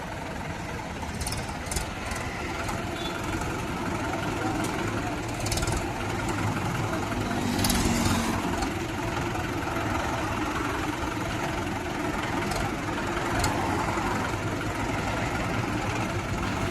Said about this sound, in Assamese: ট্ৰেক্টৰ ভাল হৈ গ'ল তাৰ পুৰা একদম